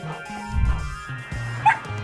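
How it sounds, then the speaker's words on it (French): Cartoon space dog barking and yipping in a children's animated doll show, a few short barks and whimpery yips over a low music bed, fairly close. "un terrible chien de l'espace essaya de leur voler leur règle magique"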